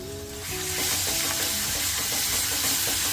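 Green chili thecha is sautéed in hot oil in a pan, a loud, steady frying sizzle that swells after the first half second, with faint tonal ringing of the pan and occasional stirring scrapes underneath.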